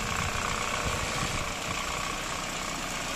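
An engine runs steadily during an ignition advance check, a continuous near, even rumbling hum with no talking over it.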